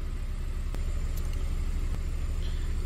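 A car engine idles steadily with a low, even rumble and no other sounds over it. The car has a fault with its LIN-controlled alternator, and the battery warning light stays lit while it runs.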